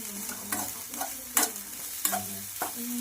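Puffed rice and peanuts roasting in oil in a pan for bhel, stirred with a spatula: soft frying crackle with rhythmic scraping strokes about every half second, close and fairly quiet, no voices.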